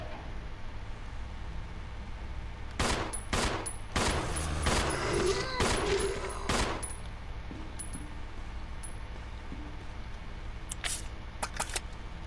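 Gunfire at a zombie in Resident Evil 0 rings out as a cluster of about six loud, sharp shots over a few seconds, then a few fainter clicks and metallic rattles of reloading follow, with a player's voice low underneath.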